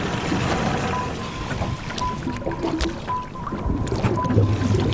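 Boat motor droning steadily on the open sea at Marion Reef, loud and close with wind buffeting the microphone and water washing against the hull throughout.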